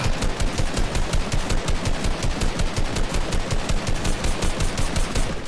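Rapid automatic gunfire in the video game Fortnite, a dense, loud, evenly spaced burst of shots rattling continuously without a break and with no voices over it.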